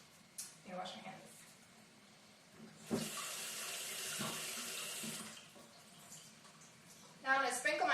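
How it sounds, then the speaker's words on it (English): Tap water runs into a kitchen sink during hand washing, with a steady stream of a few seconds in the middle, set between quieter handling sounds and a brief louder splash at the end. "Let me wash my hands."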